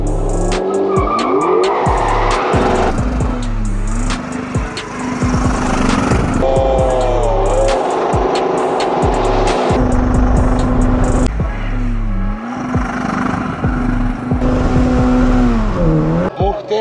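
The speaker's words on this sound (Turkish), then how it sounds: "Sıra geldi drift'e. Freni bırak." A car drifting on a race track, full throttle with the brake released, its engine roaring loudly and tires squealing in long repeated screeches from start to finish, with no talk over it.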